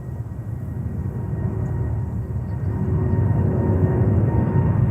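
Delta 223 heavy airliner departing JFK Airport, a steady broad engine roar that swells gradually over the whole stretch, with no talk.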